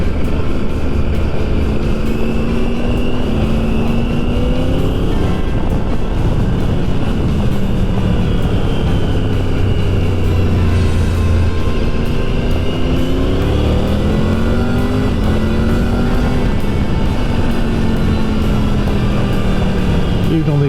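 Triumph Tiger 900 GT Pro motorcycle engine droning steadily on twisty roads, pitch rising and falling through bends with constant wind rush, loud and close throughout.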